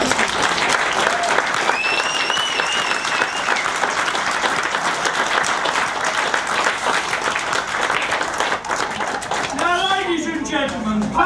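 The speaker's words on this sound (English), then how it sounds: "can I ask you to give a round of applause" Sustained, loud round of applause from a wedding crowd at Hempstead House, dense and continuous clapping with a brief voice and a few whistles near the end.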